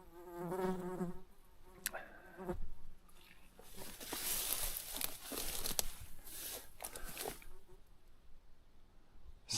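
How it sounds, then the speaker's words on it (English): A wasp buzzes near raspberry bushes, a close, wavering drone that rises and fades, mixed with crinkling and rustling of leaves and stems as branches are handled. "Oh, there's a wasp there."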